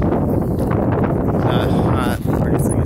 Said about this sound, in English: And it's pretty windy out here.